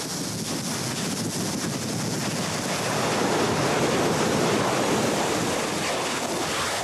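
Heavy ocean surf pounding a fresh lava shoreline on Kilauea, a continuous loud roar of crashing waves that swells slightly midway, with wind buffeting the microphone.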